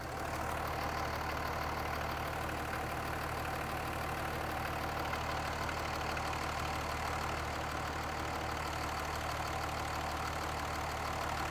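A third-generation Cummins diesel truck engine idles with a steady, even low rumble that holds constant throughout, close by with no talking.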